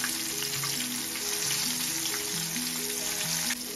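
Panko-breaded catfish deep frying in vegetable oil gives a steady, dense sizzle and crackle throughout, heard under a faint background melody, with no voices.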